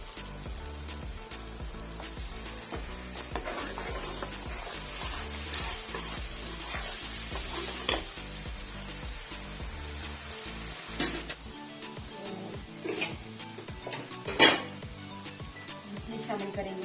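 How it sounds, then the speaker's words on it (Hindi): Sizzling fish curry in a pan with tomato and green chili paste going in, a steady frying hiss with occasional utensil clinks, heard under continuous talk. "हमने टमाटो और ग्रीन चिली का जो है पेस्ट बनाया, ये इसमें हम शामिल करेंगे।"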